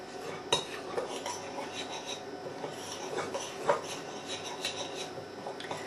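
A knife stirring milk into scone dough in a bowl, giving soft scraping and rubbing strokes with occasional light clinks against the bowl, close and quiet, no voices.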